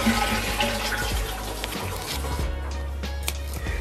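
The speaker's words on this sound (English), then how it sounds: "once I flush my toilet, the water comes out and you can wash your hands here." A Japanese toilet flushing with water running out of the tank-top hand-wash tap, a loud steady gushing rush that eases into a calmer flow; no talking.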